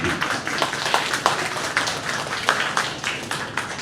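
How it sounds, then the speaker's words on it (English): A panel audience at a sustainability finance event gives soft, steady applause, a diffuse patter of many hands heard at a distance and fairly quiet throughout. "Maybe a round of applause"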